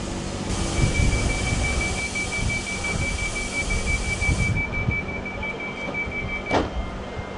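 A delayed train at a station begins to move off, giving a steady rumble of rolling stock with a faint high tone and a brief sharp squeal or hiss near the end, with no voices.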